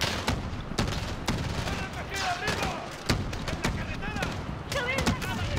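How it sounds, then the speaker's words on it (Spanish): Gunfire in Call of Duty Modern Warfare: repeated sharp shots and bursts crack through a busy battle backdrop while a person talks over the action. "Pero aquí están lloviendo los tiros."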